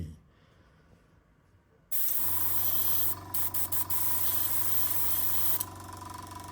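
Near silence suddenly gives way to a loud, steady hiss and motor hum as an Iwata Studio Series airbrush compressor builds air pressure, with a few brief stutters midway before the hiss drops slightly and carries on.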